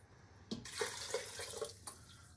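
Two cups of broth poured into a pot for creamy tomato soup: a short, close, splashy liquid pour lasting about a second and a half, with no talking.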